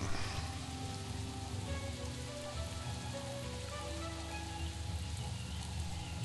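Rain pours steadily in the medieval online game Mortal Online, a dense, even hiss of drops hitting surfaces with no breaks, filling the whole scene at moderate volume.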